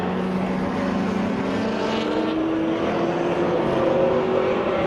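Datsun race cars, including a lime green Datsun 120Y and Datsun 1200 GXs, racing on a circuit; a steady, droning engine note holds throughout, pitch shifting slightly as cars pass, with no clear voices.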